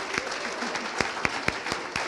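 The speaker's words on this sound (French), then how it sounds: "on va les applaudir" A church congregation applauding guests during a Thursday worship service: sparse, rhythmic clapping in a fairly steady beat, moderately loud in a reverberant room with a voice faintly heard underneath.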